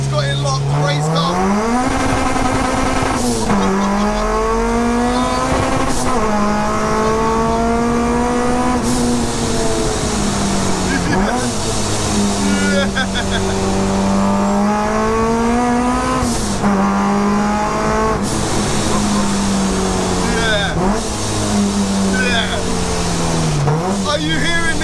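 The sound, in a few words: supercharged K20-swapped Honda Civic time attack car engine racing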